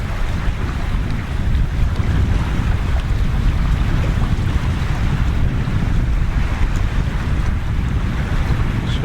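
Steady wind rushes over open water around a fishing boat out after carp on the Shardara reservoir, a constant loud broadband roar with buffeting on the microphone and no voices.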